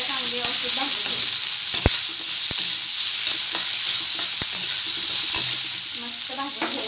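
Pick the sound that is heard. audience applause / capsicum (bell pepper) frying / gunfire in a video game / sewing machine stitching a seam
capsicum (bell pepper) frying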